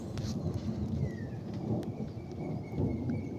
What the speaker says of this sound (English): It's not belting down with rain because my shed leaks, so I wouldn't be able to work out here, but quite a decent thunderstorm.